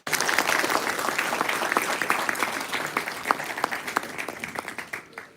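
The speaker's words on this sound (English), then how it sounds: "request all of you to have a big round of applause to our keynote speakers" An audience at a conference inaugural session applauds its keynote speakers, with dense clapping that starts loud and gradually thins into scattered individual claps before fading.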